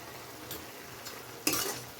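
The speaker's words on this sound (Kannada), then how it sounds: "ಎಲ್ಲವೂ ಹಾಕಿ ಹೀಗೆ ತಿರುಗಿಸ್ಕೊಳ್ಳಿ" Clam sukka with chilli powder and coriander powder being stirred in a pan, giving soft scraping sizzle with a few spoon strokes and one louder scrape-and-sizzle burst near the end, close by with no talk.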